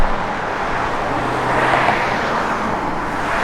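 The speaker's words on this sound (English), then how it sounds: "Car just rolls down the road, doesn't shimmy, doesn't shake." A 1970 Plymouth Road Runner rolling down the road, a steady, even road and engine rumble heard from close by with no talking.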